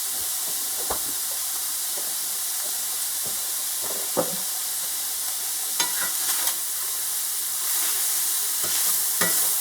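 Ground beef with mushrooms and onions browning in a pan, a steady bright sizzle and hiss throughout with occasional scrapes and clinks of a utensil stirring, no talk.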